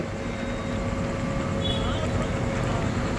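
A continuous motorbike drone on the road, mixed with rushing wind noise, steady and fairly loud throughout.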